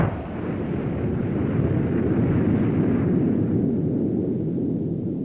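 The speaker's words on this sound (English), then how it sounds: "On impact, this tremendous energy is released as heat, melting the projectile and the surrounding sand in a violent explosion." A meteorite projectile explodes on impact with sand in a steady, roaring rumble that holds loud and dense for several seconds without a break.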